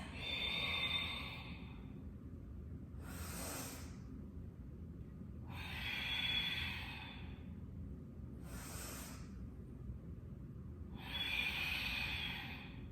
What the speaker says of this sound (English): Inhale forcefully. Exhale forcefully.